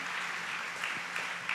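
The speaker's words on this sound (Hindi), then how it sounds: "हम ताली बजा के परमेश्वर को धन्यवाद दे।" A church congregation at a Sunday service applauds, a steady wash of clapping hands from many people filling the room throughout, with no voices standing out.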